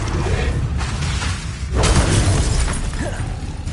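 Incendio fire spell cast in Hogwarts Legacy, a short whooshing burst of flame with a thudding crackle about halfway through, over steady ambient game noise.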